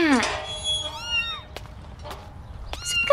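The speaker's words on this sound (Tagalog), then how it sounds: "may kuting na nakaharang sa gate" Small kitten blocking a gate mews in a high, bending cry, followed by a few shorter squeaky meows, close and clear against a quiet outdoor background.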